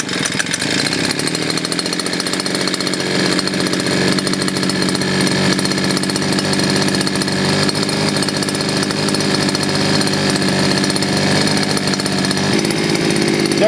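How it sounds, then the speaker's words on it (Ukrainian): A Sviatiaz BT 430 plus petrol brush cutter idles steadily, its small two-stroke engine giving a loud, continuous buzzing drone that stays even throughout with no voices. "бачите, коса працює стабільно, на холостих, шпулька не крутиться, все нормально"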